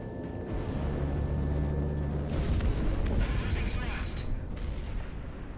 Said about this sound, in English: I'm tracking a cargo plane that was just shot down.